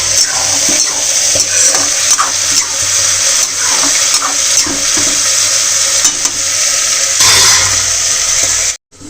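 Vegetables with onion and tomato fry in a pan with a loud, continuous, close sizzle and hiss throughout, which cuts off abruptly just before the end.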